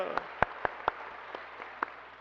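A church congregation at a Sunday service in Suwon gives sparse, scattered claps. About seven separate hand claps land at irregular intervals and sound faint and thin over a quiet room.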